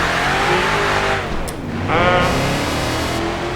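Race car engine in Project Gotham Racing 4, revving loud and close with a rising pitch. The note dips through a gear change, then climbs again under hard throttle, with faint tire noise.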